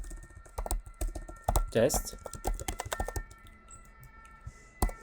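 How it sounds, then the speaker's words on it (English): Rapid, uneven clatter of keys on a computer keyboard, close up, running steadily with a few sharper key strikes, while someone talks over the typing. "I will be typing the steps or the commands that will be executed on the quality test stage."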